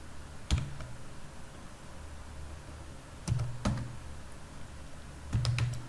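Keystrokes on a computer keyboard while an npm install command for the Swagger JS doc package is entered, arriving in three short bursts of clicks separated by quieter gaps, close and clear with no talking.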